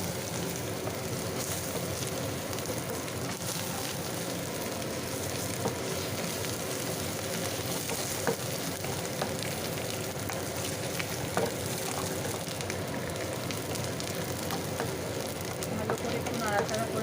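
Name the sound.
ginger paste frying and being stirred in a pan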